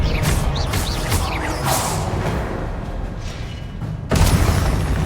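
Spell blasts in Hogwarts Legacy, including Confringo, Incendio and Expelliarmus, whoosh and boom in quick succession, ending with a louder heavy impact burst.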